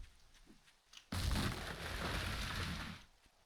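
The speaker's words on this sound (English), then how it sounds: "I need you to not be raining, game" Heavy rain pours down in the survival game 7 Days to Die, a dense, loud broadband hiss that starts abruptly after a quieter stretch and holds steady for about two seconds before easing off.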